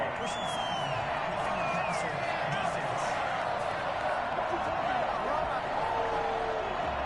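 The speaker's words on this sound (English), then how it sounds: "Oh, this crowd does not like that call." A football stadium crowd boos and roars steadily after a roughing-the-passer flag against the home team, a dense, continuous wall of sound with scattered whistles and shouts.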